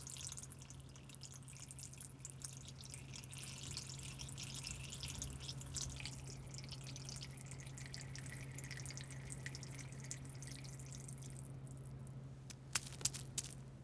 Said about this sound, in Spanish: la suciedad y el agua se deslizan sobre esta nueva pintura llamada Lotusan sin